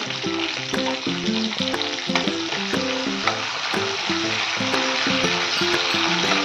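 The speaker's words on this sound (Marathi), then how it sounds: "मग आपण घेतलेली ती मिरची टाकायची, छान असं तळू द्यायची." Green chillies fry in hot oil in a pan for a Maharashtrian cabbage poha, a loud steady sizzle with crackling throughout, while a melodic tune plays in the background.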